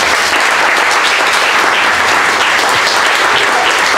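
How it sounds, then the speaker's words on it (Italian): Loud, sustained applause from the audience at a political gathering welcoming a guest onstage, a dense continuous roar of clapping hands that holds steady from start to finish. "vi chiedo di salutare con un applauso Francesca Guidi."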